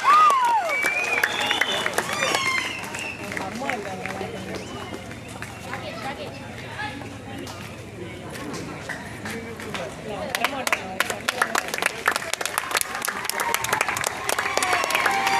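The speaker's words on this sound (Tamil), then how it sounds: "எல்லா மாணவர்களும் நல்ல கரகோஷத்தை அவனுக்கு கொடுக்கலாம்" Students at a school annual day applaud a boy who has just sung. Scattered clapping rises and falls under background crowd chatter and voices, with sharper, denser bursts of clapping toward the end.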